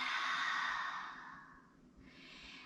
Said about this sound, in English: Option for a cleansing, inhale. Open mouth, exhale.